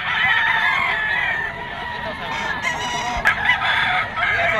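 Kelso bloodline gamecock stag at a crowded outdoor pet market, crowing repeatedly and clucking nearby amid a steady murmur of background chatter and market noise.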